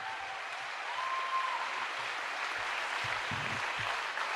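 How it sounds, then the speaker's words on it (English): Applause for a state senator at a public gathering, a steady wash of crowd clapping heard from some distance, even and sustained with a faint tone and low thumps beneath. "a big round of applause to our amazing state senator, Lena Gonzalez"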